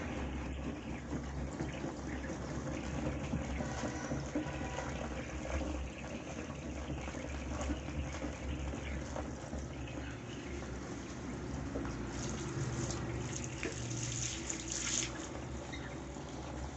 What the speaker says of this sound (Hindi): पानी और डाल लेते हैं ताकि देखते हैं पानी और डालने से ये कितना काम करता है